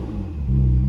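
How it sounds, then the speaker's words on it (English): A modified Porsche 997 Turbo engine of over 1000 horsepower revs up close by, a steady rumble climbing in a single short rising pull as the turbos spool. "you hear those turbos?"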